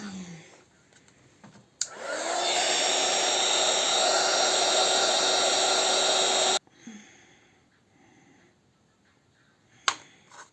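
A hair dryer blows loudly and steadily on a Christmas moulding kit for about five seconds, starting and stopping abruptly, with quiet handling clicks before and after.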